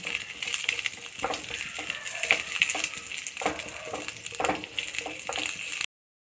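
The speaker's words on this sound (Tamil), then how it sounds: "தேங்காய் எண்ணெயில் புதினா வதக்கிடலாம்" Mint leaves sautéing in coconut oil give a soft crackle close by, with repeated scraping stirs and small clinks of the spoon against the pan.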